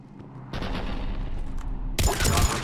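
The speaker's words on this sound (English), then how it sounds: "The cannon fire is clearing the way." Cannon fire in the video game Mass Effect 3, heavy booming blasts, one starting abruptly and a louder burst near the end, loud and close with rumbling low end.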